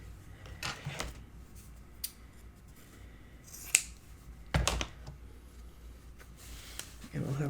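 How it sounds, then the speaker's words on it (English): Scissors snip through craft paper strips for an album project, giving a few sharp, brief cuts spaced across a quiet tabletop scene with faint background noise. "So I'm just going to cut these in half."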